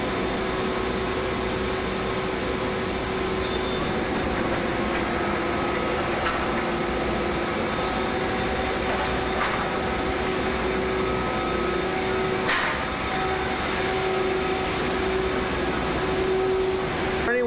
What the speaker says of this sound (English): the dust that he's creating by sanding is being sucked into all the holes and then goes through a pipe into the dust collection system